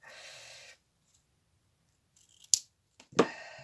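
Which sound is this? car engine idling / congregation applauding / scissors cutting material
scissors cutting material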